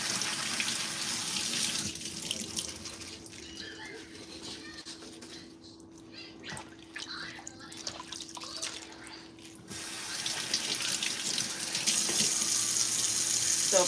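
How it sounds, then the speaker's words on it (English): Spinach rinsed under a running kitchen tap, steady splashing water with dripping and shifts as the leaves move through the stream, fairly close; the flow drops partly in the middle before returning stronger. "now I'm washing the spinach"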